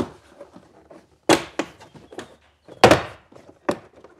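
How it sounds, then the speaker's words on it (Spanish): Plastic door panel clips are pried loose on a VW Jetta MK6. Sharp, loud cracks and pops ring out one after another at close range, with two strong snaps among lighter clicks and no talk. "A veces las grapas están un poco duras y principalmente de Volkswagen y pueden hacer mucho ruido"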